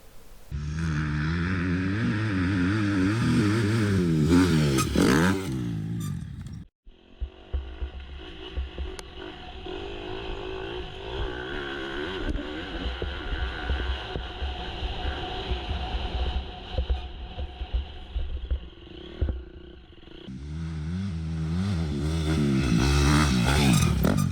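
A KTM motorcycle with aftermarket carbon engine mounts revving hard while riding, engine pitch climbing and falling through the gears, easing to a steadier drone midway before roaring up again.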